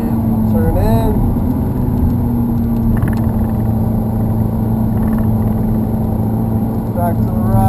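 A Ferrari 430 accelerates on the Hallett race track with a steady, droning engine note heard from inside the car. The loud, constant rumble has a voice faintly under it at moments.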